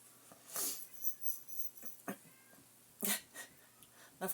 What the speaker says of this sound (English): Of course, now the cat starts meowing.